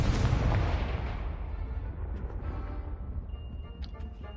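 A booming explosive blast from the Confringo spell in Hogwarts Legacy, a loud broad burst that rolls off into a rumbling decay with faint crackling debris and a brief high chime near the end.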